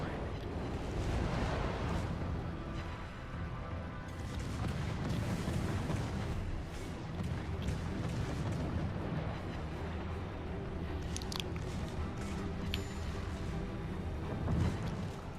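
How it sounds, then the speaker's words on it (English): Warship guns firing at an enemy ship in the naval combat game World of Warships Legends, a continuous barrage of booming blasts and rumbling explosions over game music, loud and sustained throughout. "Concentrate fire on the enemy warship."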